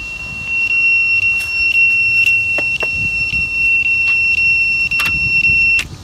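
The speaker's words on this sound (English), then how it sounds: "Good loud beeper like that." A Walkera F210 racing drone sounds its lost-model beeper, a loud, steady high-pitched electronic tone held for several seconds at close range, with small clicks and knocks behind it.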